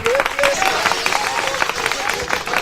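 Studio audience applause for two repentista singers on a Paraíba regional culture programme, dense clapping and crowd noise mixed with music and a voice speaking over it.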